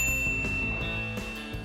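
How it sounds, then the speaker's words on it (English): A bright notification bell dings several times, clear ringing tones with sustained shimmering overtones, close and alone with no talk. "ring the bell to get notified about our latest videos"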